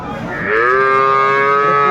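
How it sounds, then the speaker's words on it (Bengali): A cow at a cattle market lets out one loud, drawn-out moo close by that rises and holds steady until the end. "গরু দেখেন আগে গরু দেখেন আগে"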